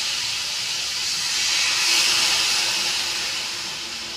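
Water poured into hot fried masala for a hilsa fish, potato and eggplant curry hisses into a loud, broad steam sizzle that swells and then slowly settles, close up, without talk.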